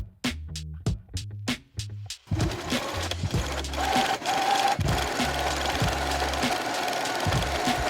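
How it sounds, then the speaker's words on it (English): A sewing machine stitches boning channels on a gown, starting with a few short stop-start bursts of rapid mechanical clatter, then running continuously in a loud, close, rhythmic whir. "I sewed those 1/4 inch from the seam on either side, so there would be 2 channels per seam."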